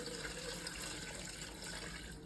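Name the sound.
water being poured in for homemade coconut milk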